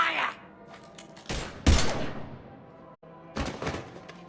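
Gunfire in Mass Effect 3, a few sharp heavy blasts and bursts separated by short gaps, with game sound and voices around them.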